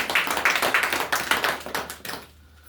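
A church congregation claps in a fast, even rhythm, many hands together in rapid close beats for about two seconds before stopping abruptly into quiet room tone.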